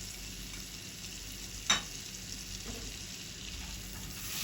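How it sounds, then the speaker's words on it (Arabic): Spices and salt sautéed in butter in a pan for Egyptian koshari give a steady, soft sizzle close by, broken once by a brief utensil clatter. "نزيد نشيح فيها شويه كده نشم الريحه"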